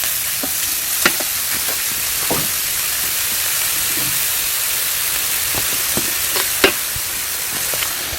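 Spicy beef stir-fried in a pan over a wood fire, with steady sizzling and frying hiss throughout and scattered scraping clinks of a spatula stirring, close and alone without talk.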